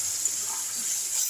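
Spice paste loosened with water is poured into a hot cooking pan while making a Bengali drumstick flower curry (sajne phool jhal). It gives a brief, soft, steady hiss and splash at moderate level.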